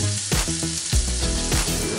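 Garlic, onion and carrot sizzle steadily in hot oil in a pan, a close, continuous frying hiss broken by a few utensil scrapes and stirs.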